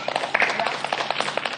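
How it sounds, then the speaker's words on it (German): A short burst of brisk clapping from a group applauding a nine-year-old boy, close and fairly dense for under two seconds. "Applaus für den kleinen Hassan."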